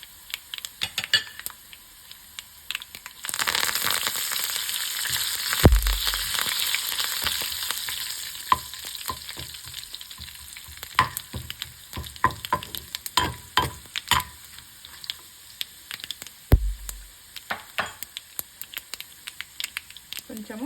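Hot oil sizzles and spatters steadily after a sudden crackling start as curry leaves go in, with scattered stirring clicks and taps.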